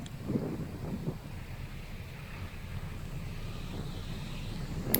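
A B-17G bomber taxis on the ground, heard from inside as a steady, continuous low engine rumble with a windy roar that holds evenly throughout.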